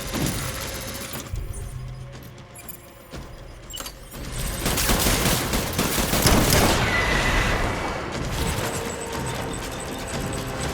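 Gunfire in the Death Stranding video game comes as loud rapid bursts and volleys of shots over a rumbling game backdrop, intensifying midway through.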